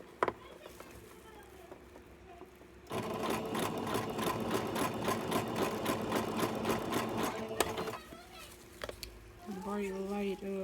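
A home embroidery sewing machine runs in a rapid, steady stitching rattle for several seconds, starting and stopping abruptly, with a voice and talk heard around it.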